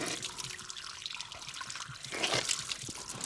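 Spring water trickling out of the wall of the disused Barnsdale railway tunnel, a faint, close splashing dribble with scattered drips that grows a little louder partway through.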